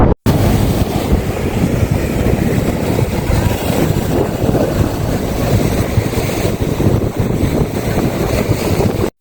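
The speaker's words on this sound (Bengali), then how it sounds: "এখানে সুন্দর একটা হাওয়া বইছে" Strong wind buffets the microphone in a steady roar at Fraserganj sea beach, with a wash of surf faintly beneath it, no clear voices.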